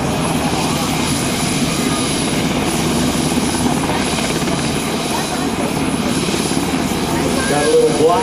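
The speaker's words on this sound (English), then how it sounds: "the helicopter now going into a hover again" A UH-60 Black Hawk helicopter hovers nearby during a fast-rope demonstration, its rotor and engine roar loud and steady throughout with no break.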